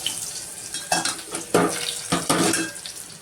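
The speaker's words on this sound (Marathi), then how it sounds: "पातेल्यात तेल गरम झाल्यावर भरपूर असा ठेचलेला लसूण टाकला." Plenty of crushed garlic goes into hot oil in a pot, with sizzling under clattering utensil and stirring knocks that come in several sharp bursts over a few seconds.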